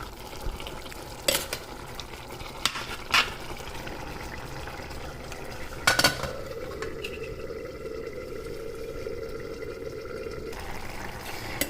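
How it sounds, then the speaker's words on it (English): Black chana being stirred with masala in a pan on an Indian stove, with several sharp scraping clacks of the spoon over a steady frying sizzle, close and fairly loud, with no talking. "The process that we are doing now of stirring makes the masala blend very well with the chana"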